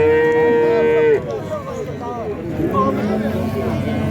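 A young bull calf at a cattle market lets out a long, loud moo, followed by a busy murmur of traders talking and bargaining nearby.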